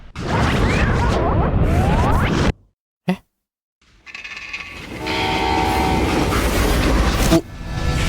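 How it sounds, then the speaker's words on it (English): A train in the video game Call of Juarez: Gunslinger clatters and rumbles loudly, then cuts briefly to near silence before returning with a sustained horn-like whistle over rolling wheels. "How'd they stop this train in the first place?"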